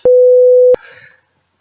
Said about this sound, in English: I'll say these words, but I will bleep them out